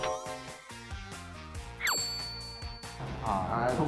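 Notification bell ding sound effect, a single bright ringing chime near the middle that lingers briefly, set within background music and someone talking.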